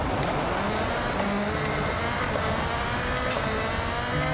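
A vehicle engine in a video game hums in a steady, continuous drone with a gritty, buzzing texture, holding an even loudness throughout.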